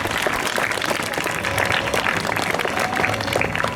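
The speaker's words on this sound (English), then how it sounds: "We can clap for them," Students applaud steadily at a school welcome assembly as house award winners are named, a dense, even clapping that holds throughout, with a little talk underneath.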